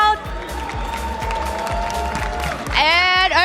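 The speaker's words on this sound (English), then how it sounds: "Let's hear that crowd." Crowd applause and cheering at a Pokemon Unite championship esports event, a steady wash of clapping under loud thumping arena music with a steady beat.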